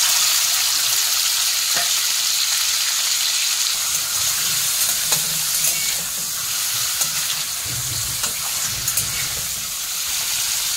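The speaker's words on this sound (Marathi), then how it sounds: "आपल्याला पनीर फ्राय करून घ्यायचे आहे थोडेसे तेलामध्ये." Paneer frying in a little oil, giving a continuous, fairly loud sizzle with a few soft clicks of a utensil scattered through it; no voices.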